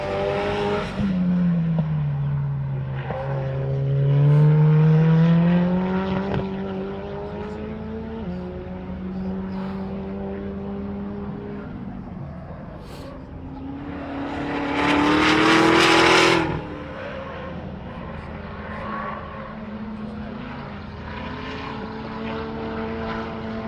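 A race car roars down the front straight at Gingerman raceway, its engine note rising and falling in pitch as it passes, with a loud surge midway and a second pass near the end, no talk over it.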